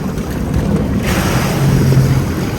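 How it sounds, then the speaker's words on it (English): Choppy sea water splashes against a moving boat crossing small waves on a slightly wavy ocean day, with steady broadband wash and wind buffeting the microphone throughout, loud and close, no talking. "when you're going against the waves, are splashing in your face"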